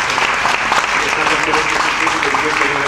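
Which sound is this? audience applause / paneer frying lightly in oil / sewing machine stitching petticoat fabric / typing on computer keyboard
audience applause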